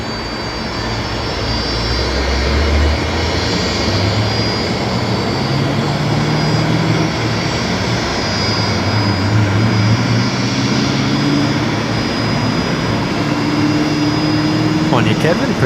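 Fokker turboprop engine spooling up on the ramp at Brisbane Airport, its pitch climbing in slow rising tones over a dense rumbling roar, loud and continuous, with indistinct voices faintly in the background.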